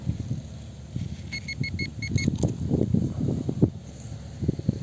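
Short electronic beeps from a metal detector sweeping a playground pulse in a quick cluster over steady rustling and scraping ground noise, with no voices.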